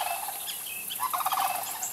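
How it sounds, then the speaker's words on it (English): Cranes calling near a creek, faint distant trilling and rattling bird calls over a soft outdoor background, with a brief cluster of rolling calls in the middle. "That's the cranes making that noise."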